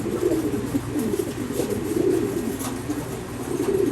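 Several pigeons coo in a loft, a steady, low, throaty burbling that repeats and overlaps, close by and moderately loud, with no talk.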